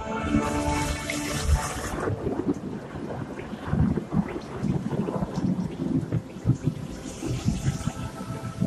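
Heavy rain pours steadily while deep thunder rumbles and rolls, with gusty wind buffeting the microphone throughout.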